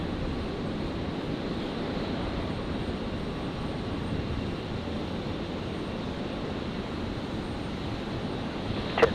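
A Rex airliner on its takeoff run from runway 01 right at Brisbane Airport, a steady broad engine roar heard from a distance that holds evenly throughout, with no voices.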